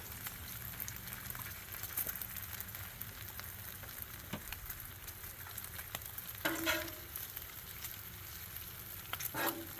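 Bacon sizzles on a Blackstone griddle with a steady, faint crackling hiss throughout, broken by a few louder pops and spatters near the end, with no talking.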